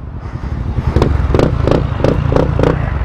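A Kawasaki Ninja 250 with only an aftermarket exhaust tip idles with a deep, steady rumble, then gets blipped in a quick series of about five sharp revs, loud and close.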